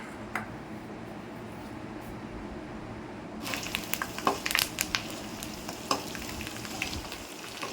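Chicken pakoda frying in oil, a steady sizzle that turns louder and crackling partway through, with sharp pops and stirring clatter close by.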